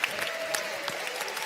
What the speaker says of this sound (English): round of applause for our helpers.